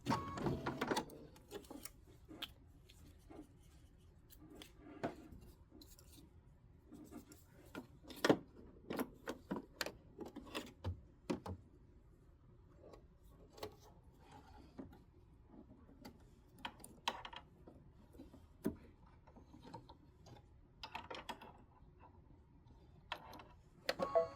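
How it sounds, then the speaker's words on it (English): An embroidery machine works a decorative flourish on a table-top display piece, a quiet, irregular patter of ticks and taps repeating throughout, with soft background hum and no talk. "3 minutes of stitching for the flourish top and bottom"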